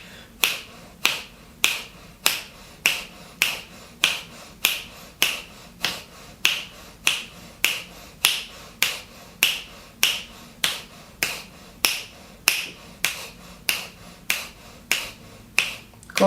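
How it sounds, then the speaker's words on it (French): Crisp finger snaps repeat at an even, steady pace, roughly every half second, clear and close against a quiet background, setting a rhythm for a breathing exercise. "Chaque claquement de doigts, tu expires."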